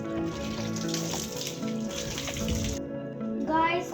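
Clear water runs steadily from a tap in a home garden, a continuous splashing gush close up that cuts off near the end, followed by a brief voice.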